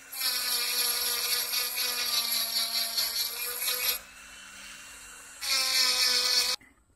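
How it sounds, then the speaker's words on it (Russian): A diamond burr on a rotary tool grinds a metal knife fitting, producing a loud, steady high-pitched whine that cuts out briefly and then resumes for a second pass, close and without talk. "убираем алмазной шарошкой. выводим на один уровень."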